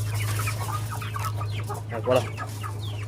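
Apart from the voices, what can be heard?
guinea fowl calling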